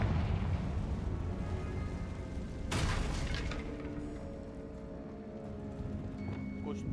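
A Confringo fire spell explodes in the Hogwarts Legacy video game, a sudden burst midway over a continuous low rumbling game ambience, followed by a fading crackling tail.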